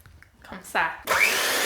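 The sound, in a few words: beating sugar and two eggs with an electric mixer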